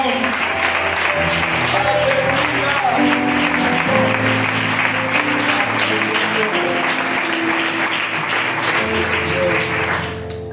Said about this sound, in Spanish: Le dan un fuerte aplauso a Jesús.